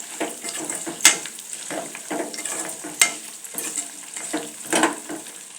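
Green chillies sizzle in oil in a pan while being stirred, with a steady crackle broken by sharp metal scrapes and clinks of the spoon at irregular intervals, close and with no talking.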